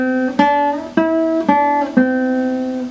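A classical guitar gives out a short run of plucked notes with a full, warm tone, each attack ringing on into the next. The playing is close and steady, with four clear note onsets.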